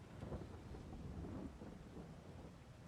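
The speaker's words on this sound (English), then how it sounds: "oh, I can hear the thunder" Low rolling thunder rumbles through a steady rainstorm on a farm in Farming Simulator 22, the rain hissing constantly under a soft, distant roll.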